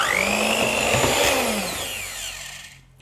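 An electric mixer beats butter, sugar and an egg in a bowl, a loud, close motor whine that holds steady and then slows and fades as it winds down at the end.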